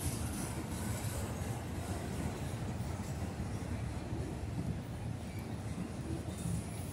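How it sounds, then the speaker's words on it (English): Trains rolling past on a railway bridge give a steady, loud rumble with dense low-end roar and faint rail clatter, unbroken by any talk. "Apparently I'm in the perfect spot today to catch three trains."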